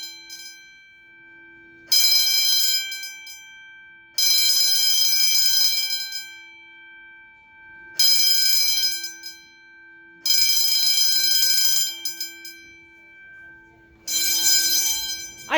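Edwards fire alarm bell going off during a false alarm at an indoor flea market, loud metallic ringing in bursts of about two seconds separated by short gaps, heard alone.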